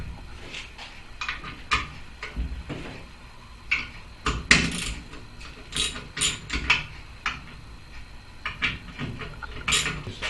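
A ratchet loosening the three 8mm bolts on an overhead valve engine's valve cover, heard as bursts of close metallic clicking and clunks with short pauses between them, with no voices.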